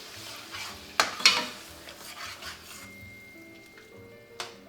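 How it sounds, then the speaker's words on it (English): Stirring eggplant caponata in a pan as tomatoes are added, with a soft continuous sizzle, a sharp utensil clank against the pan near the start and another near the end. "Mix and add the tomatoes."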